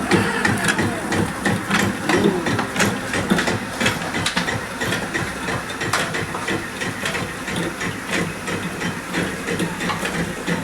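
A batasa sugar candy making machine runs on a production line, a loud continuous mechanical clatter with hissing and rhythmic thumping throughout, no voices.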